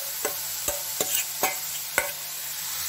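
Grated carrot frying in desi ghee in a kadai, a steady broadband sizzle with a few sharp clinks of stirring spaced through it, close and fairly quiet.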